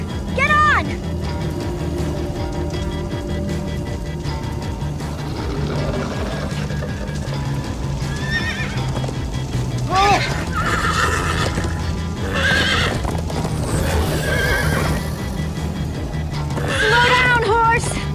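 Horses whinny several times over a steady background of Minecraft Story Mode game music and hoofbeats, with excited voices calling out now and then.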